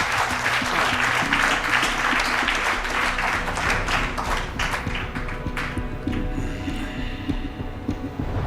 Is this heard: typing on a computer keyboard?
no